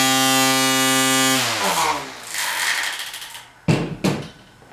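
A Ryobi 18V ONE+ cordless string trimmer gives a steady, loud motor whine that winds down after about a second, then rustles before two sharp, brief bursts near the end.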